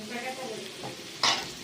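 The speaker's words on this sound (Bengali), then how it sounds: "এখন পুরোটা মিক্স করে নেব। পরিমাণ মতো নমক এটাতে দিয়ে দিচ্ছি" Chicken being stirred and mixed with salt in a pan, a brief scraping stir with a faint sizzle beneath and a sharper, louder scrape near the end.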